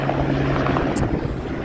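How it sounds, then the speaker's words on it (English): Continuous rumbling rotor and engine drone of a helicopter taking off in Skagway, steady and fairly loud, heard alone without talk. "this is the third helicopter going off here today"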